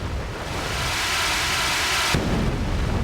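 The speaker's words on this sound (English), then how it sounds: "The game is trolling me a little bit with those explosions." Explosions in the video game The Thing: Remastered roar as a continuous, loud, broadband blast noise that shifts abruptly in tone partway through, with no voices.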